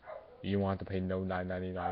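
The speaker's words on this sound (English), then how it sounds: "sorry if you can hear that in the background. My dog is barking right now." A dog barks in short yips somewhere in the house, small and fairly distant, mostly buried under someone talking over it.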